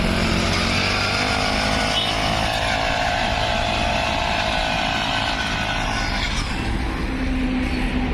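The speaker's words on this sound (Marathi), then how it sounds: "इंजिनवर चालणारे ॲटोमॅटिक सोयाबीन मका ज्वारी हरभरा कोळपणे खुरपणे डवर नियंत्र" A small engine on an automatic soybean weeder runs continuously and loudly up close, a steady droning rattle that holds throughout with no pauses.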